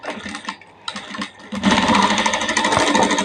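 A sewing machine stitches piping onto a blouse, first in short bursts of rapid mechanical chatter with brief gaps, then running loudly and continuously in a fast, steady whir up close.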